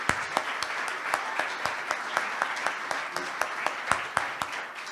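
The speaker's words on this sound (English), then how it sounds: "Please give them a round of applause" Sparse, moderately loud applause from a small gathering recognizing event helpers, individual claps spaced irregularly at a steady pace, with faint murmuring behind.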